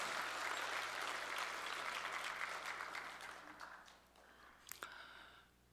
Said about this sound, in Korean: 우리 찬양 받으신 주님께 영광의 박수 올립시다.